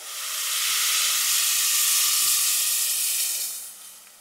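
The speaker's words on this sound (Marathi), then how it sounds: "आता आपल्याला ह्यात नारळाचं दूध ओतायचंय" Coconut milk poured onto roasted vermicelli and semolina in a hot pan for kheer, giving a loud, close, steady sizzling hiss that swells and then fades over a few seconds.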